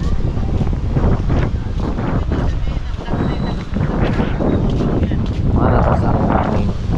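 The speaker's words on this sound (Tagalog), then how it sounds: "Malakas ang hangin." Strong wind roars across the microphone at a coastal market near a Coast Guard post as a typhoon approaches, a loud, steady buffeting with muffled voices mixed in.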